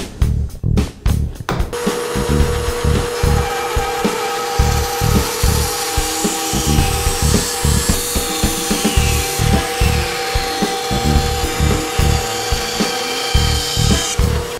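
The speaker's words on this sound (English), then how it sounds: "Because our template rides along the bandsaw template jig, which has the bandsaw blade embedded within the notch that we created, the blade ends up cutting the workpiece only" A bandsaw cuts a wooden workpiece guided by a template jig. The hum of the running saw is steady throughout, overlaid by a rhythmic, repeated rasping cut.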